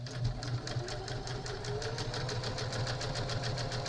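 Sewing machine running steadily while top stitching a fabric face mask, a close, continuous rapid mechanical whir with fast regular needle ticks and no pauses.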